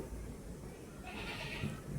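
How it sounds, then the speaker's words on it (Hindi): A goat bleats faintly somewhere in the background, a short wavering cry rising over a low, steady ambient hum. "क्या हो गया बकरी को यार"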